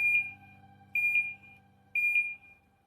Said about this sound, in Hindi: प्रोग्राम बटन जब मैं प्रेस करता हूँ तो 3 बीप की आवाज़ आती है